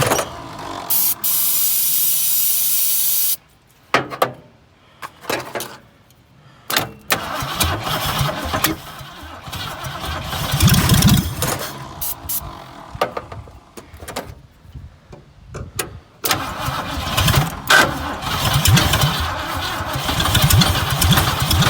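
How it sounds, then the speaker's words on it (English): Repeated attempts to start a 1970 Ford Fairlane: bursts of loud, churning engine cranking and revving broken up by short silences, with a steady hiss at the start and uneven surges throughout, heard close and without talk. "The starter sounded like it's stuck."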